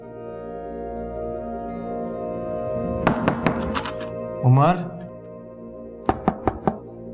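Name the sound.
knocking on a door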